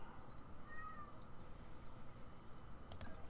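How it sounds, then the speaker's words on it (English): A cat downstairs in a house meows faintly a couple of times, distant and quiet beneath a low room hum, followed by a few sharp keyboard clicks nearby. "I don't know if you guys can hear my cat downstairs."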